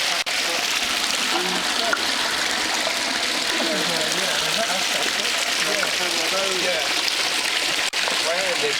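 Steady broadband rush of river water flowing where it joins the Quaggy at Mottingham Wood, continuous and fairly loud, with faint birdsong over it and no talk.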